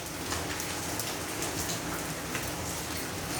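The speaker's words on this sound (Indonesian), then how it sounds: "Lagi hujan juga." Steady rain falls in a dense, even hiss of drops striking a surface, continuous and moderately quiet, with no voices and no thunder.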